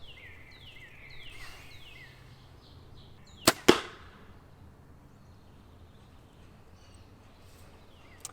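Arrows strike a deer-shaped archery target, two sharp cracks in quick succession that sound like an arrow hitting the target's leg. Birds chirp faintly in the open air before the impacts.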